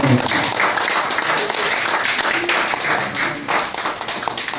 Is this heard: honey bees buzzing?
no